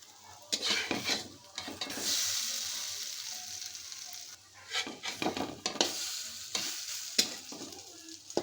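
Prawn fritters fry in a small amount of oil over low heat with a soft, steady sizzle. Scraping and clinking spatula strokes against the pan break in repeatedly, all fairly quiet and close, with no talking.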